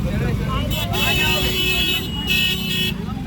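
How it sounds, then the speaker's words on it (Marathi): Heavy road traffic near Prayagraj during the Mahakumbh: a constant engine rumble with repeated horn toots, the strongest around one second and again near two and a half seconds, while a voice talks over it. "एवढी मोठी ट्रॅफिक लागलेली आहे"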